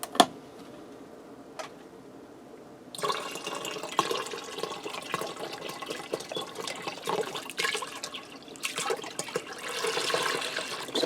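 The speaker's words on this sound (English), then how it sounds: "And I have a 6-cup box of beef broth here. We're going to add some of this in." Beef broth pours from a carton into a pressure cooker, a steady liquid splash and gurgle starting a few seconds in and running continuously, fairly close and moderately loud.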